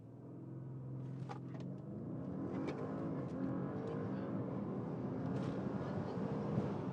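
A car in sport mode accelerates hard from a standstill on a 0 to 100 run, a low engine roar building steadily and staying loud throughout, heard from inside with no talk.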